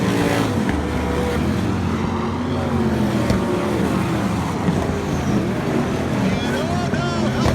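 Sprint car racing engines roar at Willamette Speedway, a dense, continuous, loud drone of several cars circling the dirt track, with an announcer's voice running over the noise.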